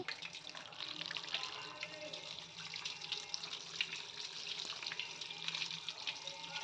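Curdled-milk cheese rinsed under a running kitchen tap, with a faint, steady stream of water splashing continuously throughout.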